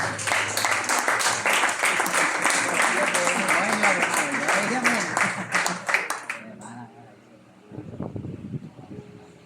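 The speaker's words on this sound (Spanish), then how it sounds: "Denle un aplauso al Señor esta mañana." Dense, sustained clapping from a church congregation fills the first six seconds, then cuts off abruptly, leaving a quieter stretch with a voice near the end.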